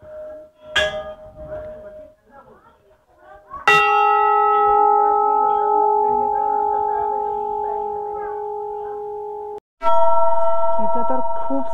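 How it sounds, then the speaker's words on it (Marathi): Hanging temple bells at a high-altitude temple in Uttarakhand are struck: a couple of sharp metallic clangs followed by a long, loud ringing bell tone that sustains and fades, with another strike near the end. "इथे तर खूप सारे घंट्या लावलेत असे"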